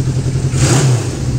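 A 1974 Honda CB550 Four inline-four motorcycle engine revs loudly and up close, a steady mid-pitched roar that swells briefly as the throttle opens, with no talking.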